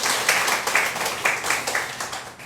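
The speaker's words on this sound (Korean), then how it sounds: "우리 감사의 박수를 한번 드리겠습니다" A church congregation applauds in thanks during a Sunday worship service, with dense, steady clapping that swells in brief waves throughout.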